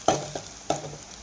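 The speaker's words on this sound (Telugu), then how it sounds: "నూనె వేడెక్కిన తర్వాత దాంట్లో పచ్చిమిరకాయలు, ఉల్లిపాయలు," Green chillies and onions hit hot oil in a pan, giving a few short stirring scrapes and a light sizzle, with three distinct bursts close by and no talking.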